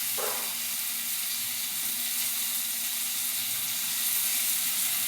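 Water lily stems frying in a pan, a steady broadband sizzle and hiss with a brief scrape of stirring near the start, continuous and fairly loud with no voices.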